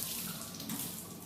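Parsley being washed under a running kitchen tap, a steady close splash of water hitting the leaves and sink for the whole short moment, with no talking.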